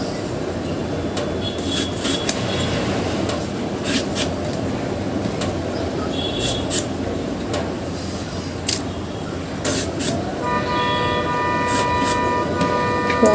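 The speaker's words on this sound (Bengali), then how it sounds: "গাড়ি হর্ন দিচ্ছে।" Car horns honk from the street below, heard indoors from a home kitchen as several distant, sustained tones toward the end over a steady wash of traffic and background noise.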